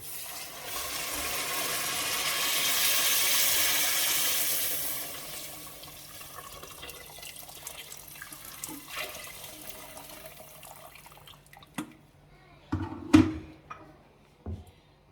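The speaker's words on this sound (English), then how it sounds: "So I'm adding an extra cup of water." Water pours and splashes steadily into a cooking pot for several seconds, swelling then tapering off, followed by a few clanks and knocks of the pot nearby.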